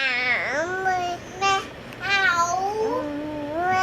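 A young child imitates a cat's meow, giving several drawn-out, wavering meowing calls close to the microphone, separated by short pauses.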